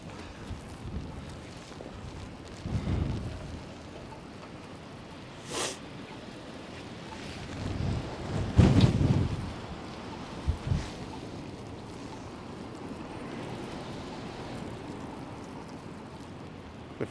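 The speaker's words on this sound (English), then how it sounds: "You can see the wind blowing across right now." Wind gusts through downtown Toronto during an evening snowfall, buffeting the microphone with low rumbling swells, a stronger blast in the middle and a steady windy hiss between gusts; no voices.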